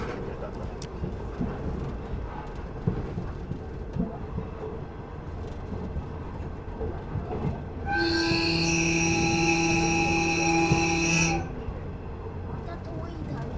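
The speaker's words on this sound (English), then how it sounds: "You might be wondering why the train was honking in the middle of nowhere." A train rumbles past a rural Japanese level crossing with steady rail noise, then sounds a long, loud multi-tone horn for about three seconds before fading back to rolling wheels.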